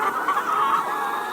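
Free-range chickens cluck softly and continuously while foraging in a pasture, a brief steady murmur of hens at moderate distance with no talking.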